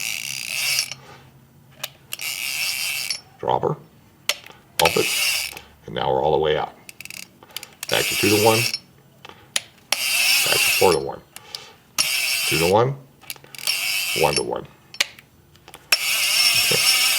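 An Avet fishing reel clicks and ratchets through its anti-reverse in bursts while being shifted between gear ratios, loud and close, with someone talking between the mechanical runs.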